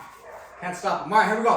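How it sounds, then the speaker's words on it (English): A dog barks and yips in quick bursts near a workout space, its sharp calls overlapping someone speaking during a kettlebell and body-weight exercise routine. "They keep barking."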